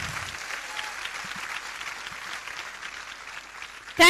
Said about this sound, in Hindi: उनके लिए एक बहुत जोरदार तालियां